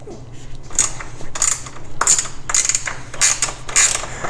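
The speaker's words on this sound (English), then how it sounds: "This one's a ratchet wrench" A ratchet wrench clicks in quick repeated bursts while turning a 10mm bolt on a Polaris RMK snowmobile front bumper, close and crisp, with soft rustling beneath.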